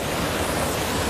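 A waterfall in Boyabat, Sinop rushes with a dense, steady roar of falling water, loud and close, filling the short clip without a break.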